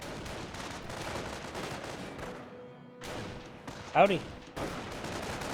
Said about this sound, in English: Farm squad taking a bit of fire from the Volks Grenadiers.